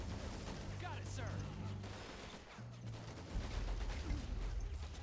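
Mortar fire and battlefield explosions in the Men of War: Assault Squad video game, a dense, continuous rumble of blasts and gunfire with low booms swelling near the end, under a voice talking.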